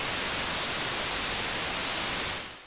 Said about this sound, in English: And then we play our clip to see what kind of quality white noise we have.